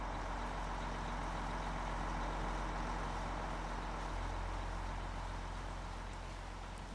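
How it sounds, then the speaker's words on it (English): A log truck backing up in Farming Simulator 25, a steady low diesel idle and engine drone holding at an even level throughout, with a slight shift in pitch partway through. "Log truck's right there. I'll just back it in."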